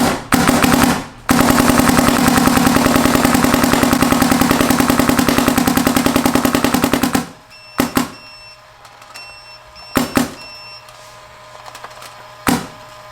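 A vintage DSR Nasa Bolt paintball marker fires a fast, steady rapid-fire string of shots for about seven seconds, with a brief pause near the start, followed by a few isolated single shots spaced apart in a quieter room.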